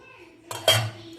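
Dishes and serving utensils clink and clatter as rice is served at home, a few short close knocks of metal and crockery in quick succession against a quiet background.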